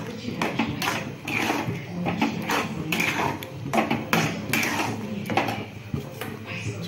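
A spoon stirs rava upma in a cooking pan, making close scraping and clinking against the metal in a busy, continuous rhythm, with a voice talking faintly underneath.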